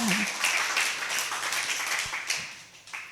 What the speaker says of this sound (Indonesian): Berikan tepuk tangan yuk bagi Tuhan